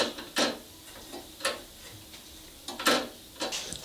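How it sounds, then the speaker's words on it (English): Welding wire is unspooled on a Titanium Unlimited 200 welder with its tension turned down to 3, giving a few sharp, irregular mechanical clicks and ratcheting ticks up close. "I'm going to run our tension down to 3. I'm going to loosen that up. I'm going to unspool this."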